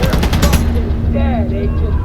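Blind fire from a gun in The Division video game, a loud rapid burst of shots in the first moments that drops to a steady droning hum, with a voice talking over it.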